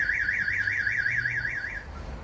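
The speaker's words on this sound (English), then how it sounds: "it will send the alarm siren off" A Clifford car alarm siren on a Land Rover Defender V8 wails in a rapid, warbling up-and-down pattern, loud and close, then cuts off shortly before the end.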